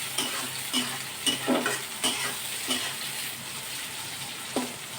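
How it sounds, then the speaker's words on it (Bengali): Onions and chilies fry in a pan with a steady sizzle, punctuated by repeated clicks and scrapes of stirring. "এই যে দেখো একটু পেঁয়াজটা লাল লাল হয়ে গেছে ভাজা"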